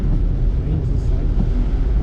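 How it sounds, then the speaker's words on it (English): Wind rushing into a car through the open left side during a rainy coastal drive from Bakoven to Hout Bay in Cape Town, a steady loud low roar buffeting the microphone. "Because the wind on your left hand side is coming inside"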